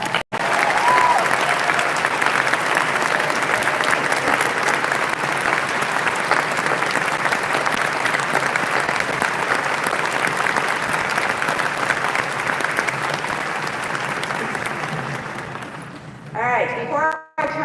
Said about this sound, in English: we'd like to recognize you with another round of applause.